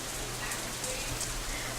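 Rain patters on an umbrella in the game Katawa Shoujo, a soft, steady wash of dense droplets with a few brighter taps, quiet and continuous, with no voices.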